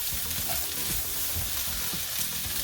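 Cabbage fries in a little oil in a pan, with a loud, continuous close sizzle and repeated soft thumps and scrapes as the leaves are tossed.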